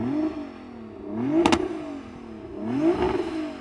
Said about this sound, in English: you've obviously got an upgraded exhaust on your GTR as well, but does it sound as good as this M5? Do you want to give it a rev?